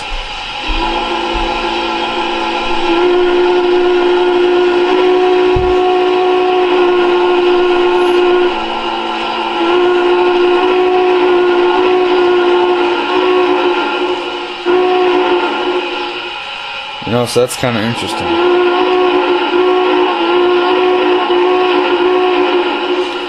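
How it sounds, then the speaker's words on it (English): An MTH Union Pacific 4-6-6-4 Challenger model train sounds its whistle in long, steady sustained blasts over a running-train hum, with a brief clatter near the end and someone talking briefly. "I typically like to use the quotable whistle."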